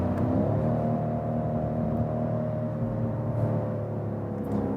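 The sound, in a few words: BMW M550i V8 petrol engine low exhaust rumble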